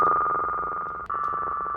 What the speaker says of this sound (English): we're going to use this spectral bin shift plugin, which changes the sounds to sound like this.